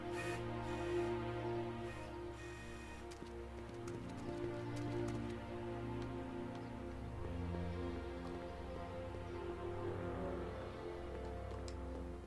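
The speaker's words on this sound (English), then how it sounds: "The rain." Steady rain in the Back to the Future video game, a continuous soft patter with faint scattered drops, constant in level throughout with no voices.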